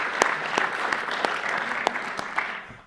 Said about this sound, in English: So a big round of applause to you for participating.